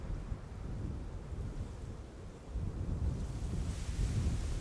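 Strong wind gusting at Amsterdam Schiphol airport beside runway 18R, a steady, loud low roar with buffeting against the microphone that rises again after a brief lull.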